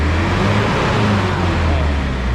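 Loud, steady engine drone from a turbocharged car revving high, a dense continuous roar with low rumble and no pauses.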